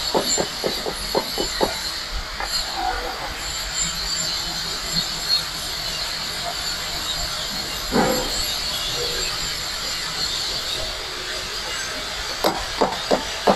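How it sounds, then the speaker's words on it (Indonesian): Plastic mallet tapping a workpiece clamped on a milling machine in a manufacturing workshop while making a nut: a quick run of sharp taps at the start, then a few isolated knocks later, over a steady hissing background. "ini menggunakan diketok dulu pakai palu plastik ya, kita menggunakan alat palu plastik hand tool."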